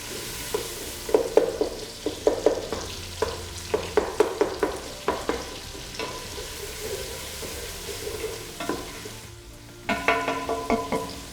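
Onions frying over very high heat for an East African muthia dumpling stew, with a spoon stirring and scraping the pan in repeated short strokes over a steady close sizzle. No one speaks.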